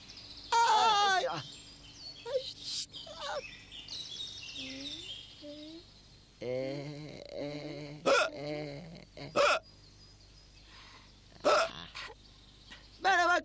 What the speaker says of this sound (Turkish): Demek hala hıçkırığın geçmedi.